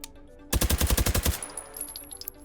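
An MP5SD1 submachine gun fires a rapid burst of about a dozen suppressed shots in the VR shooter H3VR, loud and even-paced for under a second, then a short mechanical tail with no talk.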